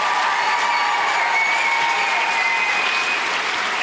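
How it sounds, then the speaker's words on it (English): An audience at an arts showcase and campaign kickoff event in Louisville, Kentucky, claps in a steady, loud round of applause that fills the whole stretch without letting up. "Give Gregory and Terry a round of applause."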